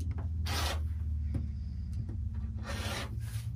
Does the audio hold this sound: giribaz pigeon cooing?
no